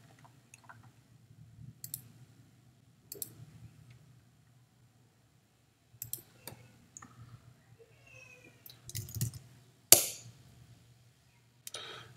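Computer mouse clicks, sparse and faint, come singly and in small clusters with long quiet gaps in between.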